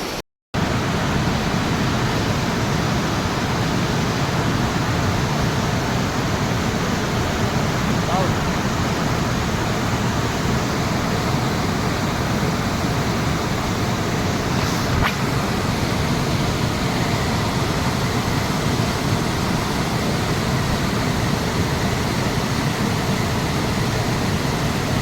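A waterfall on the Gomukh trek near Chirbasa roars in a dense, steady rush of water that fills the whole span, close and loud, without a break.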